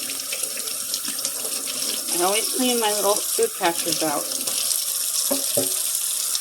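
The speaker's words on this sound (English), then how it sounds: "I'm going to let the water run." Tap water runs steadily into a kitchen sink during a deep clean, a continuous hissing splash under a voice as she talks.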